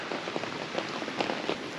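Steady rain patters on surfaces at a campsite by the Grays River in Wyoming, a dense, even hiss with scattered louder drops and no voices.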